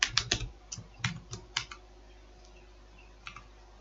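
Computer keyboard typed in quick bursts of crisp clicks, a fast flurry at the start, then scattered keystrokes and a short pair near the end, close and fairly quiet with no talk.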